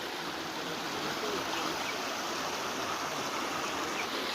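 Streams of water along the Narmada parikrama route at Shoolpani Jhadi rush and splash in a steady, dense roar that fills the whole stretch without pause, close and continuous.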